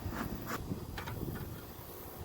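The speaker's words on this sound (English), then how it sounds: "Look at all those bees." Honey bees at a backyard hive in Oklahoma give off a soft, brief buzzing drone with a few louder passes, faint and close, no talking.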